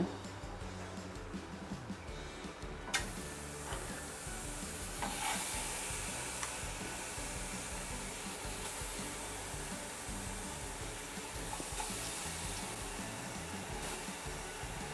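Green curry paste made with bird's eye chilies sizzles and is stirred in a pan, a steady broad hiss of frying with scraping strokes, close and continuous throughout.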